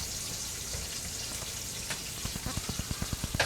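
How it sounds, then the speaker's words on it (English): Green beans and potato curry fry in a pan with a soft, constant sizzle. Toward the end, rhythmic stirring taps and scrapes repeat at a quick, regular pace. "So that's going to fry up."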